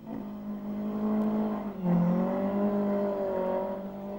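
A Peugeot rally car at the 1996 Ohakune Rally drives hard, its engine a steady droning note that dips, then climbs and holds at a fairly close distance.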